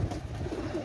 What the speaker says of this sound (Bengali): পাকিস্তানি ব্লাড লাইনের কবুতর।